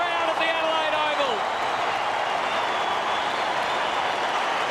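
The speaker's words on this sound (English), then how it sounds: "the raptures of the crowd at the Adelaide Oval" A large crowd at an AFL football match at Adelaide Oval roars and cheers in a continuous loud wash of sound, while a commentator's voice briefly rises over it.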